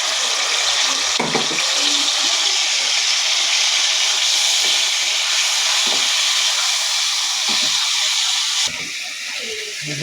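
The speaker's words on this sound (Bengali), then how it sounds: "এখন এই মশলাটা আমি ভালো করে কষিয়ে নেব।" Ground paste of green chilli, mustard, ginger, garlic and onion frying in a pan, a steady loud sizzle and hiss with a few brief clatters.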